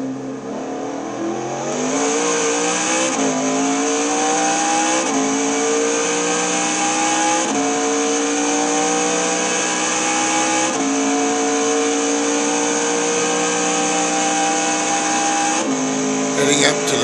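Race car in a Le Mans racing video game, a loud steady in-car engine whine that drops in pitch with each downshift through the gears, a man calling out gear changes over the roar.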